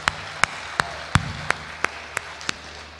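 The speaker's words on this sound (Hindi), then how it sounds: "एक बार ताली बजा दीजिए पीछे तक" An audience at a devotional Holi song performance clapping in time, giving eight crisp, evenly spaced claps at a steady beat that sound moderately faint over a quiet background.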